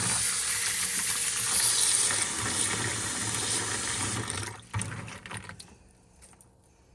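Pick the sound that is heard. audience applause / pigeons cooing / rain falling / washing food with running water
washing food with running water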